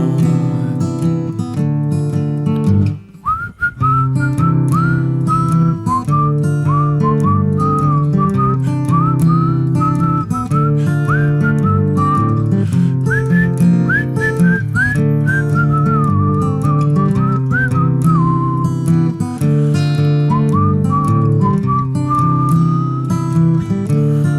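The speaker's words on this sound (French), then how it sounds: "Je viens siffler ici qu'il faut faire attention." Someone whistles a lively, continuous melody over an instrumental backing, clear and prominent for the whole stretch.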